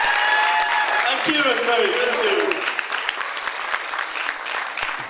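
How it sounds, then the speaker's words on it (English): Sustained applause from an audience at a university event, loud and continuous throughout, with a voice briefly speaking over it near the start. "A big round of applause for Kent University."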